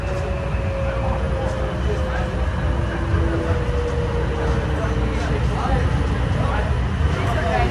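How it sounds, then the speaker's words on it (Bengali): A train rumbles in with a steady, heavy roar and a faint whining tone, continuous and close, with station noise around it. "ট্রেন চলে আসছে"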